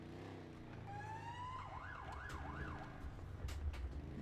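A police car siren in a sheriff roleplay video game wails in a rising tone, then sweeps up and down in a steady yelp over constant engine and road rumble.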